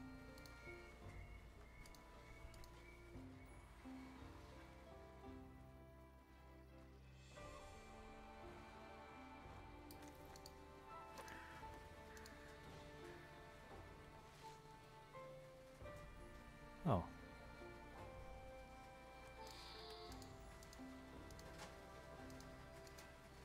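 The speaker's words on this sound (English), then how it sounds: "There's the rain." Steady rainfall patters on surfaces in a medieval fantasy game world at night, faint and continuous, with a soft ambient tone beneath it and one brief knock partway through.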